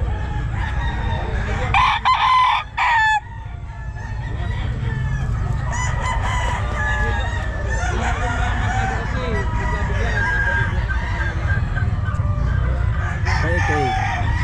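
A stag gamecock crows at the Bocaue pet market, with repeated loud cock-a-doodle-doo calls and clucking from nearby fowl. Busy market chatter runs underneath.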